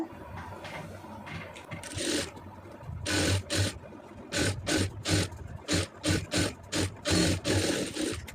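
A sewing machine stitching an Aari blouse sleeve on plain fabric runs in short, rhythmic bursts of mechanical whirring, close by, with brief pauses between them and no talk.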